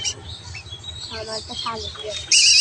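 A common myna chick gives a few close, thin chirps while a person talks nearby, ending in a louder sharp burst.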